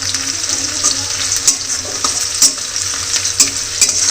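Potatoes with cumin and spices fry in a kadhai, a loud close sizzle running without a break, while a spoon scrapes and stirs against the pan every second or so.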